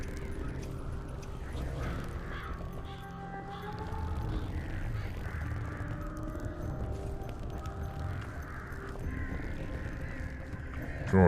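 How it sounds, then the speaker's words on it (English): Crows caw repeatedly inside the Serious Sam: Siberian Mayhem video game, drawn-out harsh calls layered over a steady, dense background of game ambience. "How are there any crows around after all those explosions?"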